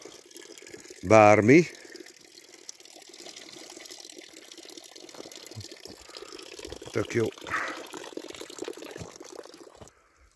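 Spring water flowing steadily into a small pool at the source of a little stream outdoors, a soft continuous trickle under brief bits of nearby speech.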